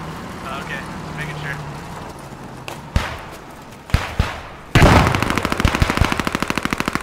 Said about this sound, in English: the gunfire is loud as shit